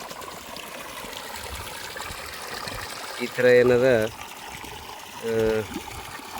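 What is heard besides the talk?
water trickling onto crop during soil drench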